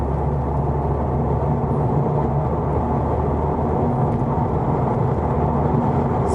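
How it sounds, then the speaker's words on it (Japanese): Inside a Toyota GR Yaris cruising on a highway, steady wind and road noise forms a constant, dense low roar with no breaks or changes. "こんだけエンジン静かだとやっぱロードノイズなんだな。"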